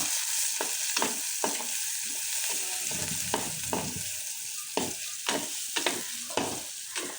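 Garlic, cardamom, pandan and cloves sizzle steadily in hot oil while a spoon scrapes and knocks against the pan in irregular strokes, close and moderately loud.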